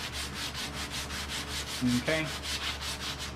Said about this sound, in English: I'm going to go ahead and wrap it in more sandpaper, 120 grit sandpaper, and I'm going to use this as a sanding block